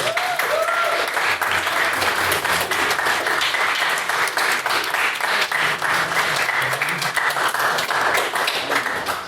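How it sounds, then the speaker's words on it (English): Sustained audience applause at an evening speaking event, dense steady clapping from a large crowd throughout, loud and continuous with no talk over it. "applause, please, for all of our brilliant speakers this evening."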